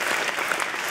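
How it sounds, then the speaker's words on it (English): Audience applause at a Big Kansas City 2013 conference event, dense steady clapping from a crowd throughout, loud and close, with no voices over it. "let's all give them another round of applause."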